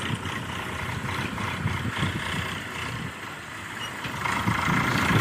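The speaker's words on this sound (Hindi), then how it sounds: "एक ट्रैक्टर ये आ रहा है।" Tractor engine rumbling steadily on a farm in the morning, a heavy low drone that swells slightly louder toward the end as it draws closer, with no talk.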